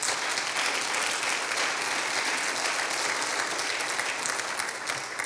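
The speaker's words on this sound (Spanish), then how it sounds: "Denle un aplauso a Dios." A church congregation applauds at a sermon, with dense, sustained clapping that fills the whole stretch at a steady, fairly close level.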